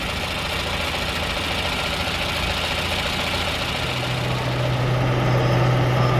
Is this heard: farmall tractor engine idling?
yes